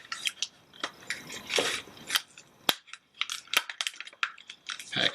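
Plastic fishing-lure packaging, a square-bill Crank Hound crankbait, is handled up close in a quick series of sharp crinkles, snaps and crackles, loud and irregular, with no talk.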